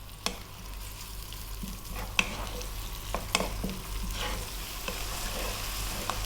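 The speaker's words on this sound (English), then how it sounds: "Above medium heat, I'm going to let that go for about 4 or 5 minutes." Pasta sauce seasoned with salt and pepper simmers over medium heat, giving a steady soft sizzle with a few light clicks and taps of a spoon against the pan, no talking.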